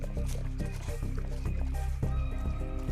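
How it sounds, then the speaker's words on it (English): Animals lapping water from a small mud hole, a mother and her cubs drinking; soft wet slurping and drips sit under a steady musical bed throughout. "The cubs join her in drinking deeply"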